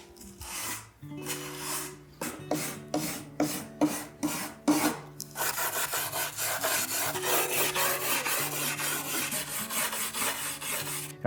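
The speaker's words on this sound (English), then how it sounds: "You're just trying to get some of that char off the surface. And again, with the grain." Char is brushed off burnt wood along the grain in the shou sugi ban style, with a series of rhythmic rasping strokes that are separate at first and then merge into rapid, continuous scrubbing, close and alone.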